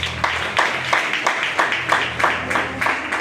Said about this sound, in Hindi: तो चलिए मेरी मैडम के लिए जोरदार तालियां।